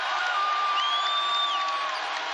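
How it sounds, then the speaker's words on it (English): A college basketball arena crowd in Houston at a Hofstra game keeps up a loud, sustained roar of cheering, with whistles and whoops rising above the steady din. "the crowd being at its loudest still out here at the Potato Center"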